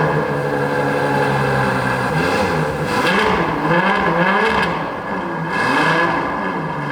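A Ferrari GTC4 Lusso fitted with a Ryft exhaust runs loud and close, its engine note rising and falling through several revs with a raspy, whirring tone.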